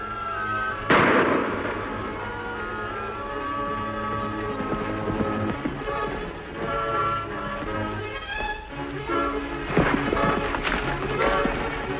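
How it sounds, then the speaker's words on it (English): Gunshots in a Lone Ranger western radio drama: one sharp, loud crack near the start, then a quick cluster of shots later, all over a continuous bed of background sound. "Shots came from this direction."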